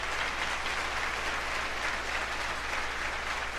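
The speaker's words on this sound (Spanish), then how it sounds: "Dele otro fuerte aplauso al Rey." A church congregation bursts into a dense, steady wall of applause during a sermon, loud and continuous throughout with no voice over it.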